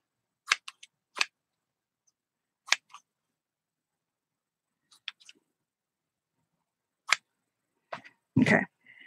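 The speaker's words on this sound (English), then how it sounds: "Scissors." Scissors snipping paper while making snippet hearts, a handful of short, crisp cuts spaced apart in a quiet room, close by, ending with a louder rustle.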